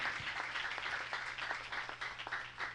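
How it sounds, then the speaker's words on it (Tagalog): Church congregation applauding during an anniversary service, steady crowd clapping heard at a distance, faint and continuous. "pumalakpak ng malakas sa ating mahal na Panginoon"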